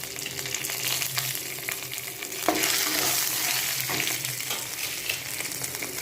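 Curry leaves drop into hot oil with chana dal for rava upma, a loud continuous frying hiss that jumps in brightness as the leaves hit, with faint stirring scrapes beneath.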